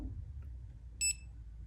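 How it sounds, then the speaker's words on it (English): An Insta360 GO 3S camera gives a short, bright electronic beep as it starts recording, a single brief tone standing out over quiet low room hum. "It makes that beep, starts loading, and now it's recording."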